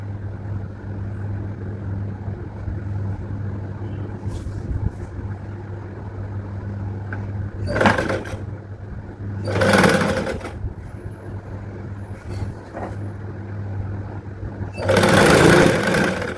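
A sewing machine stitches along the edge of blouse fabric with a steady, continuous mechanical hum, broken by a few short bursts of rustling or handling noise.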